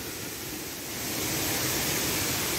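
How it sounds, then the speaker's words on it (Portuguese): A waterfall at a bathing spot pours with a steady, loud broadband roar of rushing water, swelling slightly after the first second and continuing unbroken with no talk over it. "Só o som da água, da cachoeira, né?"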